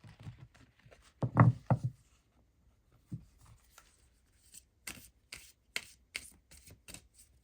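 Halloween oracle cards are shuffled close by, with soft papery riffles and a louder flurry early on, then a series of light taps and flicks as cards are handled.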